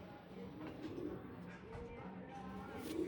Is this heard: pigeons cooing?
yes